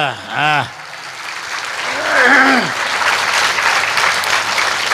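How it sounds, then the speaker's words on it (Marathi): Applause from an audience gathered for a Ram Katha religious discourse in Nashik, a broad steady patter of clapping that swells and holds for several seconds after a brief burst of speech at the start. "सर्वांनी टाळ्या वाजवायच्या."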